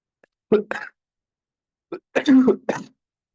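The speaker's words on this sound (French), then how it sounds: "je ne suis pas si malade que ça, c'est juste je tousse" A person coughs and clears their throat in short, sharp bursts close up, with silent pauses between them.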